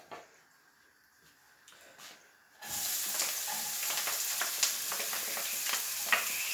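Onions tipped into a hot frying pan for lasagne: after a quiet start with light handling, a sudden loud sizzle erupts and holds steady, dotted with sharp crackles and pops.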